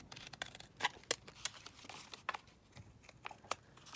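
Scissors cutting through card from a 12 x 12 master board, a series of short, crisp snips and crunches at uneven intervals, close by and fairly quiet.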